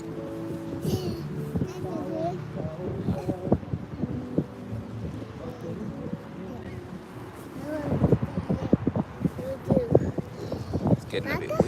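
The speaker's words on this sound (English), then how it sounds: "It's getting a bit windy now, but it's fine." Wind gusting across a waterfront on a Friday evening, a steady rushing blow buffeting the microphone while a person talks over it. The gusts grow rougher and louder toward the end.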